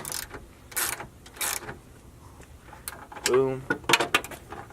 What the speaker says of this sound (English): Let's actually loosen this one a bit so we can tighten them all evenly.